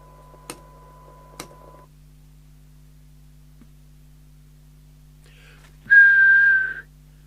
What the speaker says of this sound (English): We'll just do a whistle test with that.